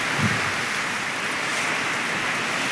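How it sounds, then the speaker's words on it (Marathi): Steady rain falling outside during a monsoon shower on a farm, a dense, even hiss that holds constant and fairly loud throughout, with no talk. "बाहेर चालू आहे नॉर्मल थोडा थोडा पाऊस"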